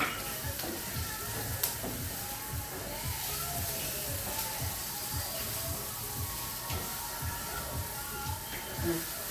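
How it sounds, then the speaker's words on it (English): Food sizzles in a hot pan while a utensil scrapes repeatedly across the bottom in a steady back-and-forth rhythm, fairly quiet, with some talking mixed in. "I'm just trying to scrape up all of this yummy, goody deliciousness in the bottom of this pan."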